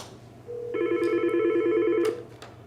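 A Yealink office desk phone rings with an incoming call: a single electronic ring burst of steady multi-tone warbling lasting about one and a half seconds, close and clear over quiet room hum.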